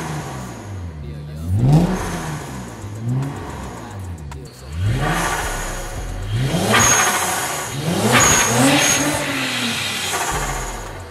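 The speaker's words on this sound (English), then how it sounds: "Ito, test drive natin. Kasi nilagyan natin siya ng exhaust." A Lexus IS 350 fitted with a new exhaust revs repeatedly, its engine note rising and falling in loud, close sweeps during a test drive.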